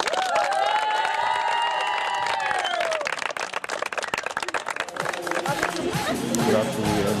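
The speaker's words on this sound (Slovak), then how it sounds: "A teraz jeden veľký potlesk pánovi trénerovi a pánovi Mrázikovi" Sustained applause from a crowd at a women's volleyball bronze-medal celebration for Slovan Trenčianske Teplice, steady loud clapping with voices and cheering mixed in, swelling again toward the end.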